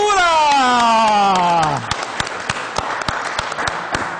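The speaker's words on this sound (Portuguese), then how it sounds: "agora no show da tarde vamos aplaudir a pastora Niura!" Applause for Pastora Niura during an afternoon show: a sustained, falling tonal sound fades out, then a thin, scattered round of clapping follows, individual claps ringing out sparsely at moderate volume.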